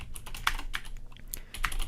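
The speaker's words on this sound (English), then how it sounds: "I'm typing the word window there" Typing on a computer keyboard sounds as quick, close, irregular key clicks with a few sharper strokes over a faint low hum.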